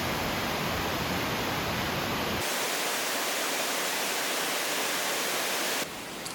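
Bongnae waterfall on Ulleungdo gives a steady, dense rush of falling water that fills the scene. The roar continues unbroken, with a brief change in tone partway through.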